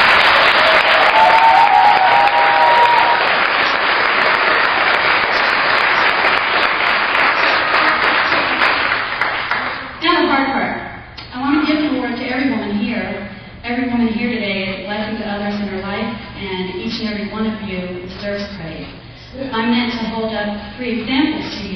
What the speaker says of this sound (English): will you give them a huge round of applause?